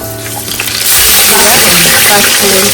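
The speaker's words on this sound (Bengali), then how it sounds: "প্রথমে মরিচ তারপর তেজপাতা তারপর সেটা দিয়ে ভালো মতো নাড়তে হবে" Dried chilies and bay leaves fry in a pan for rainy-day khichuri, a loud steady sizzle rising after a quieter start, with scraping stirs through it.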